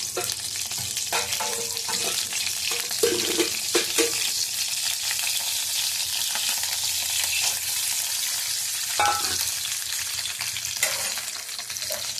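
Dry fruits fry in ghee for carrot beetroot halwa, giving a continuous bubbling sizzle with intermittent scrapes and stirring knocks from a spoon in the pan, close and without speech.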